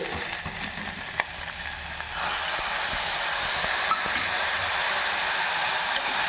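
Tomatoes frying in a pan with spices such as cloves for rice bath, a steady loud hiss and sizzle that jumps up about two seconds in and holds bright and continuous, no talking.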